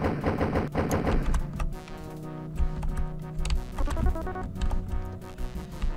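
Rapid gunfire from the DOS maze shooter Return to Danger, loud and continuous with dense repeated bursts over a busy game soundtrack, no voices.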